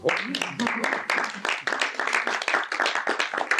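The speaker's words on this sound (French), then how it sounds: "c'est la première fois de ma carrière qu'on m'applaudit à la fin d'un cours" Applause from a group, a dense patter of many hands clapping together, steady and fairly close, with no one speaking.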